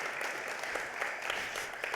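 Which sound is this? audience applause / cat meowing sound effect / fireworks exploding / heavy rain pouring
audience applause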